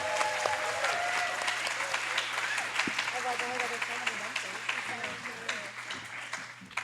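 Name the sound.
audience applause for panel speakers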